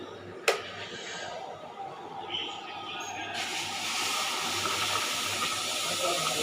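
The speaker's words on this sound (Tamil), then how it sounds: "தண்ணி நல்லா கொதிச்சிருச்சு." Water boils hard in a pot on the stove while rava kichadi is being cooked. A sharp click comes early, then a rough, steady hiss swells and stays loud to the end.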